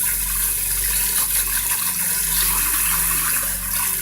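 Running water pours steadily from a tap while dandelion greens are rinsed, a continuous close splashing gush with no talk over it.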